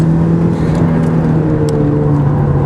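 A race car at Magny-Cours holds a loud, steady engine drone under full throttle, close and continuous with no voices.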